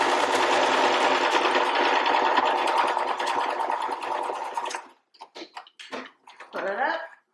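A sewing machine stitches a cloth pocket diaper in one steady, close run of about five seconds, then stops and a voice talks.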